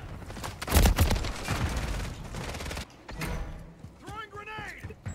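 Bursts of gunfire during a Modern Warfare 3 multiplayer match, a dense rattle of shots followed by quieter scattered fire and mechanical clanks, with in-game voices and radio chatter over it.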